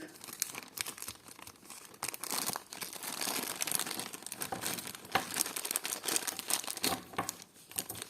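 Close, continuous crinkling and rustling of a small plastic bag of vintage jewellery being handled during unpacking, with irregular crackles and louder bursts throughout.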